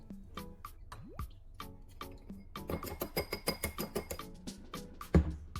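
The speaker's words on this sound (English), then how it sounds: "Squeeze out the juice, then filter it carefully to remove seeds and impurities." Lemon juice drips through a filter in a series of small, close, quiet drops, sparse at first and then falling in a quicker steady run, with no voices over it.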